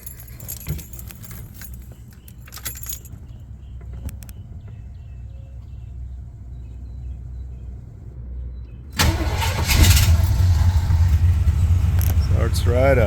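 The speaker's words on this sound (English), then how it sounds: "And now we're going to start it up." 1979 Jeep Cherokee Chief after a frame-off restoration: keys jangle and rattle faintly before the engine cranks and fires, settling into a loud, steady idle close by, with a person talking.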